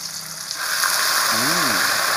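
Mung beans drop into a hot frying pan. A hiss of sizzling rises and holds steady and loud for the rest of the moment, and a brief voice-like tone is heard partway through.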